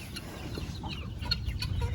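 Chickens cluck in a backyard chicken yard, several birds making short irregular clucks over a steady outdoor background, moderately near.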